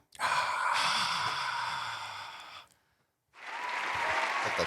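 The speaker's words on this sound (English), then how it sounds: "Clap sound." A recorded applause sound effect plays during a podcast, two bursts of crowd clapping separated by a brief silence, loud and even.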